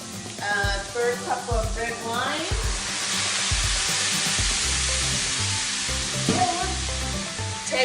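Red cabbage braising in a pan bursts into a loud, dense hissing sizzle as red wine is poured in, with a voice speaking briefly before and after amid clanks from the pan.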